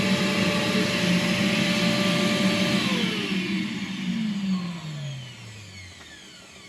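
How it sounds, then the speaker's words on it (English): A vacuum cleaner hoovering inside a DIY sailboat freezer, a loud steady whine that then winds down, its pitch falling as the motor slows toward the end. "Now let's give it a hoover."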